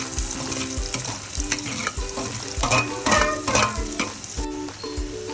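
Onions and cumin fry in a pan for dahi bhindi, giving a loud continuous sizzle broken by rhythmic scraping strokes of a spoon stirring against the pan.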